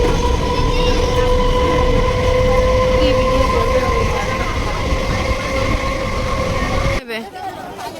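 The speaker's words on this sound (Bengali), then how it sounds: "এখন বসে আছি ট্রেনে" Steady rumble and rattle of a moving passenger train, heard from inside a carriage on the way to Naihati, loud and continuous with faint tonal hums, cutting off abruptly near the end.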